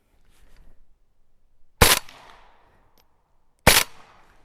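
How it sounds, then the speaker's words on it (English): An Arsenal SAM7K rifle fires 196 grain rounds, two sharp, very loud single shots about two seconds apart, each with a short ringing decay outdoors, and no talking. "that's the 3 shots of the 122 grain. Here's that 196."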